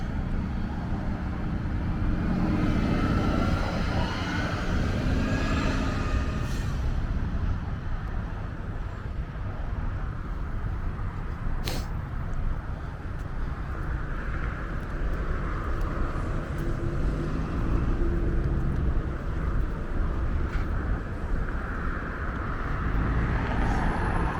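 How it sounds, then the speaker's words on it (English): An Orion NG Hybrid city bus on the 52A Lawrence West route rumbles along a busy Toronto street, a loud steady engine and road roar mixed with surrounding traffic throughout. "there's the 52A Lawrence West bus. It's gonna head west all the way to Toronto Pearson Airport, Terminal 1. That's the Orion NG Hybrid."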